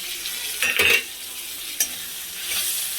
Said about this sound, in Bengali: পেঁয়াজটা একটু ভাজা ভাজা হয়ে গেছে। এবার বেটে রেখেছি আদা, রসুন, কাঁচা লঙ্কা, এটা দিয়ে দেবো।